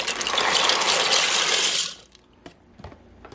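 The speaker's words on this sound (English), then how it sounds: "So you put your noodles in." Dry noodles, a whole box of about four cups, poured into a cooking pan for a budget dinner make a loud, dense rattling cascade for almost two seconds, followed by a few scattered clicks as the last pieces settle.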